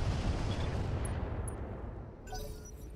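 Mech weapons firing on a turret in the Roguetech video game make a dense, loud rumbling barrage that eases off toward the end, with a few faint electronic tones over it.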